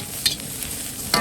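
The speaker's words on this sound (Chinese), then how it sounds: "再下入这个，把这辣椒炒熟，油，" Green chili peppers stir-fry in hot oil in a wok, giving a steady close sizzle broken by a couple of brief scraping clinks of the spatula, with no talking.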